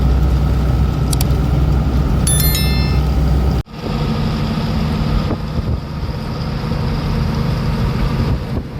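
Traffic moving through an Andhra RTO check post, with loud, steady engine rumble from nearby vehicles, a brief horn-like tone early on and a sudden cut in the drone partway through.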